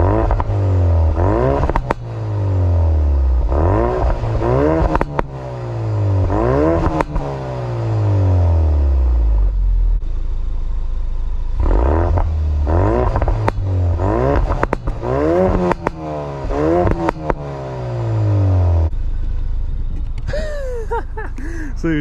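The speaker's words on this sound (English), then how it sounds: "I'll do a few revs in normal mode, and then I'll do it in the race mode" A used Ford Focus RS engine revs repeatedly in short bursts, each climb dropping back with crackling exhaust pops; the later revs, in race mode, sound sharper and more aggressive.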